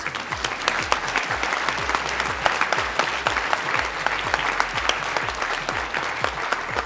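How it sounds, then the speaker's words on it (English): A large audience claps steadily, a dense, even patter of applause that carries on without letup. "And that does deserve a round of applause."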